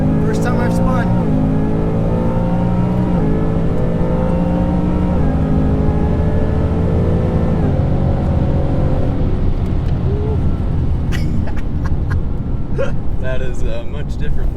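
A supercharged 2019 Mustang GT launches at a drag strip with wheelspin, its engine revving loud and steadily rising in pitch over about ten seconds before fading, with a few sharp clicks near the end.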